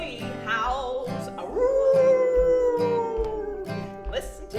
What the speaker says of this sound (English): the old coyote howls